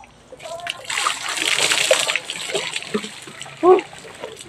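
Water splashes repeatedly as people bathe outdoors at a well on a farm, a near, continuous splatter and slosh mixed with children's and adults' voices and shouts.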